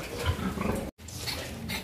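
Twenty-day-old piglets on a pig farm grunt and squeal in a short, close, busy burst, broken by a brief silent gap.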